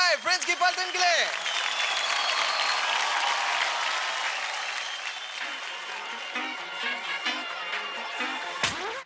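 A large studio audience applauds a children's dance troupe on a televised dance competition, loud dense clapping and cheering that slowly fades, with a voice and music creeping in near the end.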